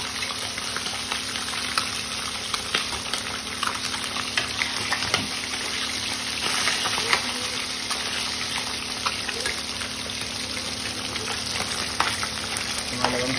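Chicken skin sizzling in hot oil, a continuous close crackling hiss peppered with frequent small pops and spatters, steady for over ten seconds with no voices.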